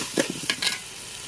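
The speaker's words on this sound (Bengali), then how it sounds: "লবণ দিয়ে চালটাকে ভালোভাবে ভেজে নেব।" Rice fried with salt in a pan, stirred in a few quick scraping strokes over a close, soft sizzle.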